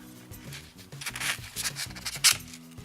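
A pair of 7-inch StarForest professional pet grooming scissors snips through paper in a quick series of crisp, close cuts, with no talking.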